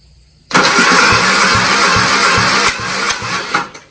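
A spare engine with its valves loosened cranks during a compression test, kicking in suddenly and loudly with a rapid, rhythmic chugging that holds steady for about three seconds, then falters with a few uneven thumps.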